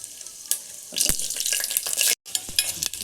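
Cashews and raisins frying in hot ghee in a pan for sago payasa, a steady crackling sizzle with a few sharp stirring scrapes and knocks and one brief pause.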